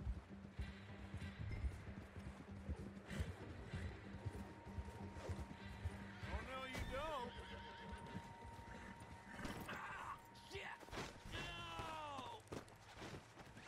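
A horse in the video game Red Dead Redemption 2 gives two loud, shrill whinnies over a steady clip-clop of hooves and game ambience, with someone talking at times.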